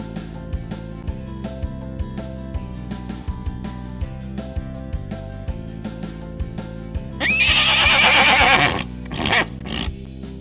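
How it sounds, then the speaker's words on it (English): A horse neighs once in a loud, shrill whinny that rises and falls and then fades, set over a steady tonal music background. "H-O-R-S-E horse."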